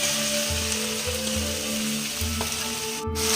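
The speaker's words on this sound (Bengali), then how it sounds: "এবার এই ম্যারিনেট করা মাংসটাকে ভাজাভাজি করা হবে।" Marinated chicken fries in white oil in a wok, producing a soft, continuous sizzle over a low, steady hum with faint pulsing beneath it and no talk.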